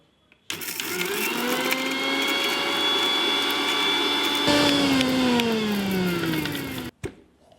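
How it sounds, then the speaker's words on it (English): Dried chili and ghost chili being ground into powder in an electric grinder, a loud steady whir running for several seconds, its pitch dropping as the load changes, before cutting off abruptly, close and with no talking. "pound your dried chili and ghost chili together into a powder"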